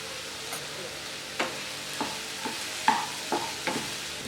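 Onions sautéed with salt in a pan for onion rice made from ration rice: a soft background sizzle broken by about six sharp spatula scrapes at uneven intervals, close by, with no voices.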